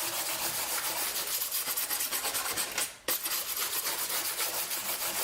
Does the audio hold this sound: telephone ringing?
no